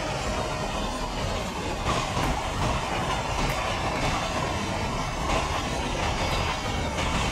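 In the MSTS train simulator, a freight train rolls past on the opposite track with a dense, steady roar and repeated clickety-clack of wheels, heard alone at moderate volume.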